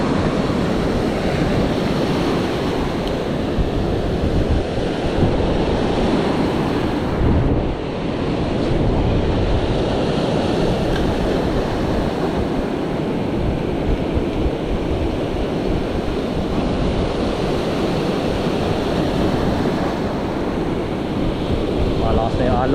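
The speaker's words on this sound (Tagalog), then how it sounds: "Malakas na yung alon" Strong ocean surf rolls in steadily at the shore while heavy wind buffets the microphone, a loud, unbroken wash of crashing waves and gusts throughout.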